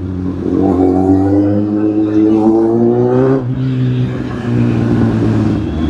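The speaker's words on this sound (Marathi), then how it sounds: "आम्ही आहे ना रिक्षाने चाललोय" An auto rickshaw's small engine drones loudly and continuously during a ride, its pitch rising briefly as it revs before settling back, with some faint talk in the background.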